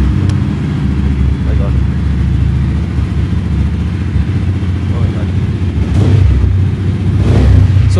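A Mahindra Mojo motorcycle engine idles with a steady low rumble, then revs up twice in sharp bursts near the end, close and loud.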